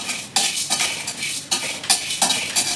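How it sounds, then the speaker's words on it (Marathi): A spoon stirs and scrapes dry garam masala with chilli and cumin powder as it roasts in a pan over low gas, giving repeated close, bright scraping strokes in a loose rhythm with no talk. "आता हे सर्व टाकून आपण गरम मसाला भाजून घ्यायचा"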